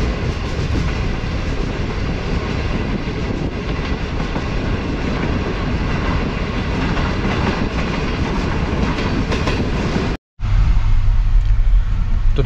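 A Pakistani Green Line Express train, heard from inside a carriage, rumbles along at speed with a continuous loud roar and rhythmic clickety-clack of wheels over rail joints, briefly cutting out near the end.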